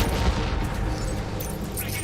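Rapid gunfire bursts from a firefight in the video game Death Stranding, loud and dense with a continuous booming rumble throughout, no speech over it.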